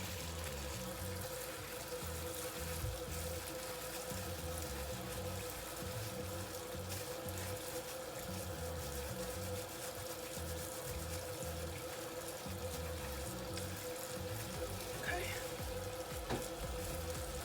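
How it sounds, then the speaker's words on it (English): Warm tap water runs steadily while dyed hair is rinsed, a continuous soft splashing and streaming that stays even and moderately quiet from start to finish. "I'm now going to wash it with warm water."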